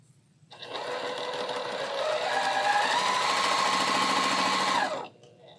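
A sewing machine stitches a pink quilt block in one continuous, loud run of rapid mechanical clatter lasting about four seconds, starting and stopping abruptly.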